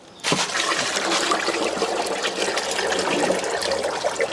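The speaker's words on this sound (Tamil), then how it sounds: "அடுத்து ஒரு 10 liters தண்ணி ஊற்றிக்கலாம்." Water pours steadily into a container to dilute homemade fabric softener, a continuous splashing gush that starts abruptly and carries on, close and fairly loud, with no talking.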